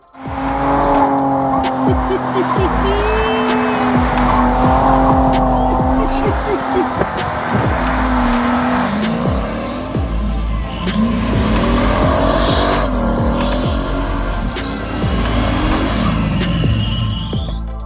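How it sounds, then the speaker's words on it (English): Rally cars at a club rally stage spin donuts, engines revving hard and tires squealing in long, shifting wails that rise and fall continuously; voices are faintly audible in the background amid the loud, close din. "you had your crazy bunch, doing donuts at every stage they could"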